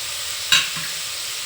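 A bitter gourd stir-fry with jaggery is stirred in a pan over a low gas flame, a soft continuous sizzle broken by two brief scrapes of the spoon.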